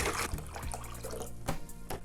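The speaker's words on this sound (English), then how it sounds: "Then we're gonna add 1 gallon of water." Tap water pours steadily into a 1-gallon bucket while mead sanitizer is mixed, a continuous close splashing rush with a few brief knocks, no talk.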